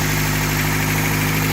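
A rebuilt Toyota pickup 4x4 engine idles high with a close, steady mechanical hum and vibration, unbroken for the short stretch.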